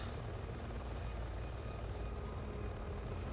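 A helicopter in Resident Evil 6 gives a steady, continuous rotor rumble that stays even throughout, heard alone with no talk.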